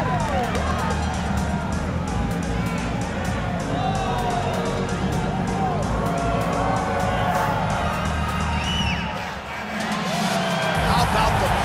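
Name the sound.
arena crowd in the video game UFC 5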